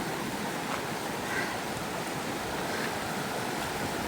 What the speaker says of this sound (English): That's what's coming from that waterfall.